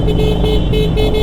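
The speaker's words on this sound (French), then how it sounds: "Je crois que j'ai jamais autant utilisé mon klaxon qu'aujourd'hui." A motorcycle horn honks during an all-women motorcycle parade, short toots over the steady loud rumble of engines nearby.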